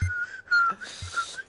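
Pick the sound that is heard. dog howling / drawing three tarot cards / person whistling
person whistling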